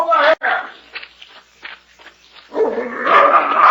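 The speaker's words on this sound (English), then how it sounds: "It's a dog, Mr. Valentine." A dog barks and yips at the start and again near the end, close and fairly loud, with quieter scuffling between.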